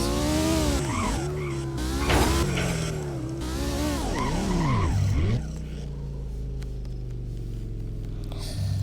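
A Lamborghini in the Roblox video game revs and roars up and down in pitch through several gear shifts with tyre squeals, then settles into a lower, steady engine drone; no talking.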